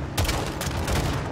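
A launcher firing during a Call of Duty: Modern Warfare II campaign convoy battle, giving a couple of sharp, loud blasts over a rumbling low-end bed of gunfire, with no voices.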